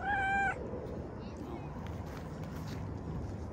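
A single short, clear meow right at the start, then only quiet low background noise.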